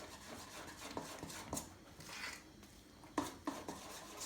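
Utensil scraping and clinking against a bowl as white cake batter is stirred at home, with soft rubbing strokes and a few sharper taps, faint and intermittent.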